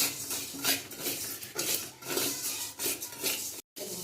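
Mung dal being dry-fried in a wok, stirred with rhythmic scraping and rubbing strokes roughly every half second, fairly close and with no talking.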